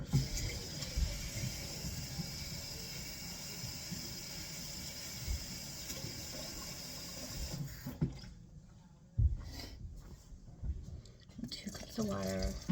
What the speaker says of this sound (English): I start out and I add 2 cups of water.